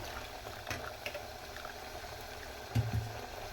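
Hot water being heated for wheat upma bubbles and simmers faintly and steadily, with a couple of slightly louder bubbling bursts near the end.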